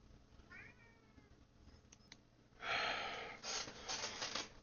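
A pet cat meows close by, a few rising cries early on, followed by louder breathy snorting and rustling bursts, with no talk.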